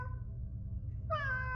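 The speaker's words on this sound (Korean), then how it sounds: "고양이의 울음소리가 들렸다." A cat meows once, a short clear cry rising near the end over a steady low hum, close and fairly quiet, used as a sound effect.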